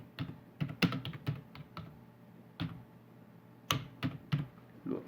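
Typing on a computer keyboard running Windows XP: irregular clusters of crisp key clicks and taps, close and moderately quiet, with short pauses between bursts and no voices.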